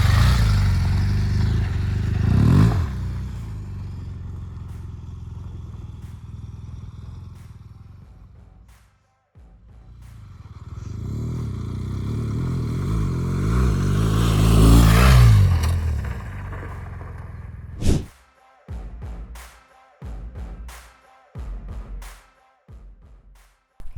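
A BMW R1200GS adventure motorcycle rides off-road and jumps, its engine surging loud and close, dropping away briefly, then rising again before a series of short sharp clattering impacts.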